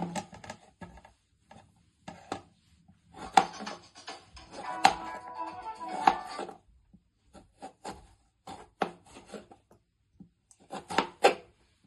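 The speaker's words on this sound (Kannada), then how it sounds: "ಇವಾಗ ಇದನ್ನ ಉದ್ದುದಕ್ಕೆ ಕಟ್ ಮಾಡ್ಕೊಳ್ಳೋಣ" A knife slices lengthwise through a peeled raw green mango on a board, giving bursts of short scraping and chopping strokes with gaps between them, close and fairly clear, with no voices.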